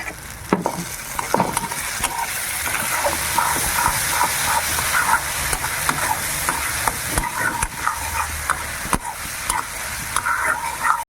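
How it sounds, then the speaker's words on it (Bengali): Slit green chillies go into a fish roe curry masala frying in oil, giving a steady loud sizzle with repeated stirring scrapes and clinks close by throughout. "কাঁচা লঙ্কাগুলো যে চিড়ে রেখেছিলাম ওগুলো দিয়ে দিচ্ছি।"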